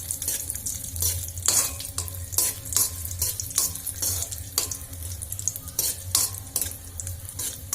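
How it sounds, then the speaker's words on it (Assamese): Cashews and raisins frying in a pan for carrot halwa, a steady low sizzle broken by repeated sharp scraping stirs of a spoon against the pan, fairly close and with no voices. "কাজুখিনি আৰু কিশমিশখিনি মই ফ্ৰাই কৰি লম"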